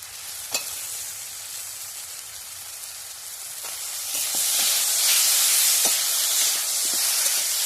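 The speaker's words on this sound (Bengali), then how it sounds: "এর মধ্যে আলুগুলো দিয়ে দিচ্ছি, ভেজে রাখা আলুগুলো।" Fried potatoes go into a hot pan for a vegetable banana curry, bringing a steady close sizzle and hiss that swells louder partway through, with a few light clinks of stirring.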